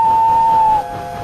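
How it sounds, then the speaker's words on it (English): A single steady steam train whistle tone holds for under a second, then cuts off, leaving a lower hum. "he heard a whistle."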